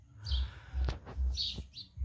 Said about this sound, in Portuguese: Como você vê aí os pássaros cantando